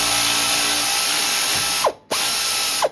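A ratchet clicks steadily while loosening the worn-out ball joint nut on a BMW i3's suspension, a close, loud run of rapid pawl clicks that pauses briefly, then resumes with a few more turns.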